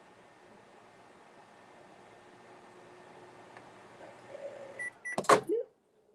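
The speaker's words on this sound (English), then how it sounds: "let's give it a couple more seconds in the microwave here." A microwave oven heating butter hums steadily and faintly, building toward the end, then a door clunks and a short beep sounds near the close before it falls silent.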